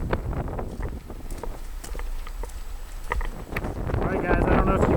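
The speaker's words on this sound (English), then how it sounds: "I don't know if you can hear over the wind" Gusty wind buffets the microphone near the summit of Mount Rogers in Virginia, a steady loud roar with swells, and a voice speaks over it.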